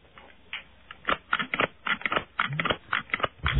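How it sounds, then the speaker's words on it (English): An office stapler is pressed repeatedly in a radio studio, giving a quick, irregular run of sharp mechanical clicks and snaps, close and fairly loud with no talk. "She produced that stapler very quickly."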